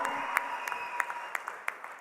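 Scattered audience clapping at a speech event for a music composer, faint and thin, with sharp individual claps popping out over a quiet hall.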